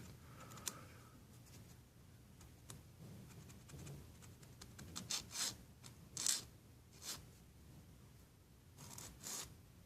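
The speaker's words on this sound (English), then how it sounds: "I can take my handy dandy sanding stick here, clean it up a little bit." Sanding stick smoothing a plastic model car radiator support part, a quiet series of short dry rasping strokes, irregular and close, growing a little louder toward the end with no talking.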